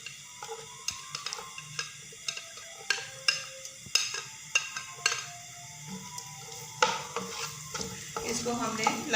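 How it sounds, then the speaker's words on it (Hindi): Onions are stirred in hot oil in a pan on a home stove while cooking smoky chicken curry, giving a steady soft sizzle broken by repeated scraping and clinking spoon strokes, close and moderately loud with no talking. "ये ऑयल लिया मैंने, इसमें प्याज डालूँगी मैं।"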